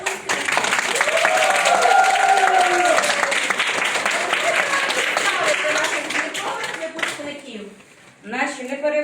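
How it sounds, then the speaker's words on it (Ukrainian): Loud, cheerful applause fills a hall at a kindergarten graduation, with whistles and a shout over it, thinning toward the end as music and talk take over. "Тож хай лунають звідусюди веселі оплески гучні."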